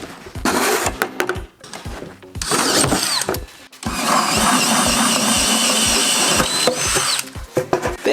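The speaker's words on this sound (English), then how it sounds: "Now for the center hole, I'm going to use a hole saw" A hole saw on a power drill cuts a center hole, coming in repeated loud, close bursts of grinding whine with short pauses and clicks between them, then one long sustained cut.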